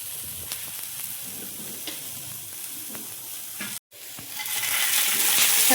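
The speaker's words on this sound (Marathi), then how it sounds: "2 कांदे चिरून घेतलेले आहेत। आता हे आपण भाजून घेऊ।" Chopped onions sizzling and frying in oil in a pan for a mushroom masala, a steady close hiss with light stirring, briefly cut off and then returning louder and brighter.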